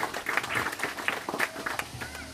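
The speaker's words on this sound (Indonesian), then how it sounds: "Kami mohon tepuk tangan hadirin yang berbahagia." Audience applause at a literary festival in Bali, heard as scattered, uneven claps from a seated crowd, fairly faint and a little distant.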